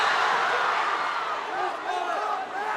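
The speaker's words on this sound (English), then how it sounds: "The crowd was so loud, he couldn't get to TJ to tell him to call a timeout" A loud, roaring crowd fills a college basketball gym, a dense sustained wall of cheering and yelling with whoops rising above it, continuous and close.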